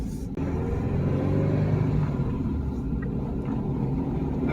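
A Subaru freshly back from engine repairs pulls hard under acceleration, a loud sustained engine roar and rumble heard from inside the car, steady throughout with a brief dip near the start.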